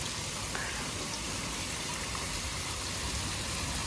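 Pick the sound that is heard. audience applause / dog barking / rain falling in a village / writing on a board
rain falling in a village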